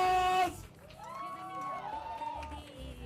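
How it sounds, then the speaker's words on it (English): A crowd of fans at an event with Ragini MMS 2 cast members on stage. Cheering and shouting continue under a tonal blare, with a loud burst at the start that then settles into steady crowd noise. "Please give her a big round of applause."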